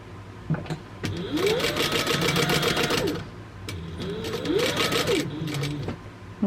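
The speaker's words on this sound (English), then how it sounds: "I'm sewing up to that line and I'm back stitching." A sewing machine stitches a pumpkin bucket bag in two whirring runs, each rising into a fast stitching buzz and then slowing as it back stitches, close and clear with faint background noise.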